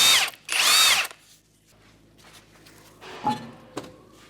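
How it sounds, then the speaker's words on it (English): Power tool with a 21mm socket spinning off lug nuts on a 2013 Hyundai Elantra front wheel, a loud close whirring burst followed by quieter clunks and a couple of metallic taps. "With a 21mm socket, we're going to remove our lug nuts and our wheel."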